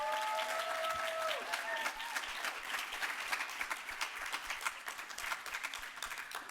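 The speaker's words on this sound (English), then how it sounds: "I would just like to give them all a big round of applause" A crowd at a hospitality awards recognition event applauds the 30 Under 30 recipients, with steady, dense clapping that carries on through the whole stretch after a brief tonal trace at the start.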